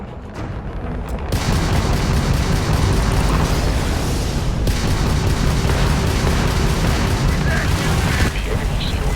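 Starfield space combat: a ship fires a homing missile and it explodes, with heavy booming blasts and a sustained roaring rumble that swells after a quiet start.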